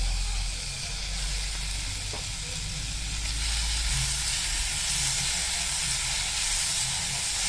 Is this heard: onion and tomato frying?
yes